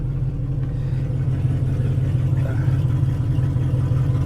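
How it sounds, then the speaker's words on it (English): A damaged car's engine idles steadily with a low, rumbling exhaust note and faint clatter, running continuously without revving. "listen to the exhaust."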